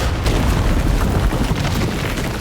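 An M79 grenade launcher round exploding at close range in the video game Far Cry 6, a loud, heavy booming blast followed by a sustained rumble, with no voices.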